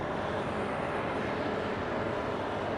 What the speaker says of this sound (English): the plane made its landing here on day 2 of the Paris Airshow here